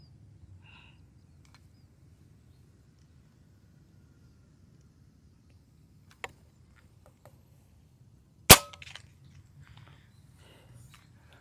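A single sharp shot from a Winchester lever-action PCP air rifle cracks out in near silence, preceded by a fainter click and followed by quiet rustling.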